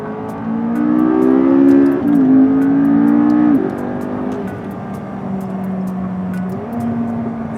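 A McLaren MP4-12C sports car accelerates hard, its engine note rising loud and close through steady gear pulls, dipping briefly at each shift before climbing again.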